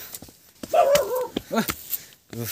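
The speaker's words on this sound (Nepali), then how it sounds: "मलाई वेलकम वेलकम भने है यो कुकुर बच्चाले" A puppy yips and whimpers in short bursts during a homecoming in Kathmandu, with a few high, close cries spread across a brief moment.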